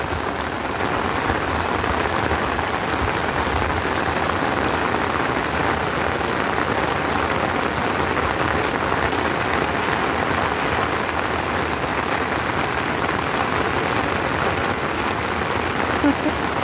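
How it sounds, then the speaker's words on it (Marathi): Heavy monsoon rain pours down at Diveagar beach, a dense, loud, unbroken roar of drops hitting surfaces close by, with no pauses. "खूप पाऊस आलाय."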